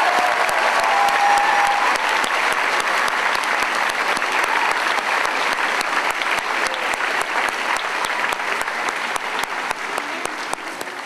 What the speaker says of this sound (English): Let's give the Conongate chorus another big round of applause